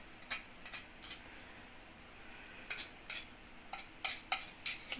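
Metal spoon scooping and shaping pempek dough of snakehead fish and sago, giving a handful of light, brief clinks and scrapes in uneven bursts, close by and fairly quiet with no talk.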